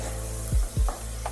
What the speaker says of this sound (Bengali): পেঁয়াজ বাটাটা তেলের সাথে বা ঘিয়ের সাথে ভালোভাবে একটু কষিয়ে নিতে হবে।